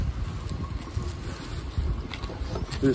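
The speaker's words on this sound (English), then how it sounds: "I didn't expect it to be this gusty." Gusty wind buffeting the microphone at an outdoor park, a steady low rumble with stronger gusts swelling through, loud and close throughout.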